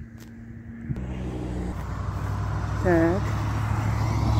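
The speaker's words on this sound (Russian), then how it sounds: "Сколько машин, сколько техники, посмотрите. Живая такая трасса." Busy highway traffic with many cars and heavy machinery passing near the entrance to Ust-Dzheguta, a steady roar of engines and tyres with a brief horn blast partway through, under a voice.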